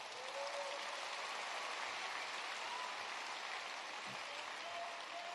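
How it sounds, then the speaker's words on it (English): A round of applause from a large audience at a Georgia event with Trump, a dense, steady and fairly distant roar of clapping that continues unbroken throughout with no talking. "Stand up and let's give Jeff Sprecher a round of applause."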